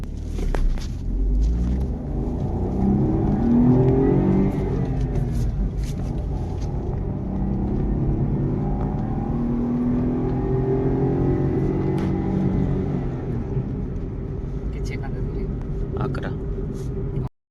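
A 2025 Maruti Suzuki Dzire's three-cylinder engine hums and rumbles steadily from inside the cabin while accelerating, as someone talks over it throughout.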